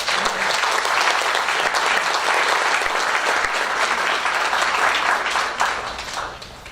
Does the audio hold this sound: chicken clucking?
no